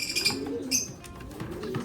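Pigeons give soft, low, rolling coos, close and brief. Light rustling and faint higher chirps sound in the background.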